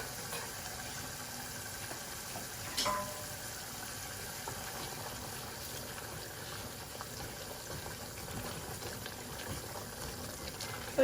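Masala spice paste fries down in a pan for a rui fish curry, giving a steady, continuous low sizzle and bubbling hiss throughout.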